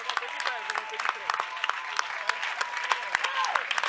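A church congregation applauds steadily at a Sunday service, a dense, continuous wash of clapping from many hands with occasional sharper claps standing out.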